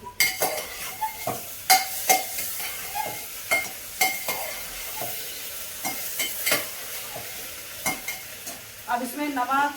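Vegetables sizzle in oil in a pan with ginger garlic paste, while a spoon scrapes and clacks against the pan in a quick, irregular stirring rhythm. The sound is close and moderately quiet.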